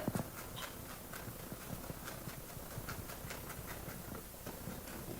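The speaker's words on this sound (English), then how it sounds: "we're just going to chop the minced garlic" Minced garlic chopped with a knife on a cutting board, quick faint repeated taps in an even rhythm, quiet and with no voices.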